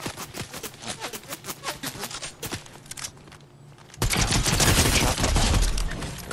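Fortnite gunfire from an enemy below on a hill, a rapid run of sharp close shots for about four seconds, then a sudden louder, denser burst of automatic fire that continues to the end.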